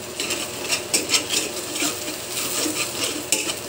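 A spoon stirs onion, garlic and ginger in a pan for a sweet and spicy fish dish, with close, irregular metallic clinks and scrapes over a faint, steady sizzle.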